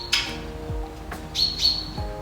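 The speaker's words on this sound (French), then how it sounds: "C'est des oiseaux, frère." Birds chirp near a young filly being desensitized, giving a few sharp, high tweets and a couple of longer whistled calls over a quiet background, with no talking.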